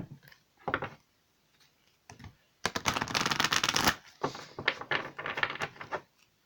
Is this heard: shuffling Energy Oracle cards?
yes